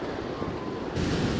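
Sea surf washing in at the shore, a steady rushing wash that swells louder near the end, with wind buffeting the microphone.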